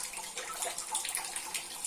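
Zalabia dough dropped into hot oil fries with a soft, fizzy bubbling crackle, faint and close, holding steadily over a brief moment with no talking.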